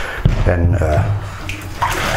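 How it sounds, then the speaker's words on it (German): Leftover hot water being poured away into a sink after brewing tea, a loud close splashing gush, with someone speaking briefly over it. "Wir kippen natürlich den Rest von dem heißen Wasser weg."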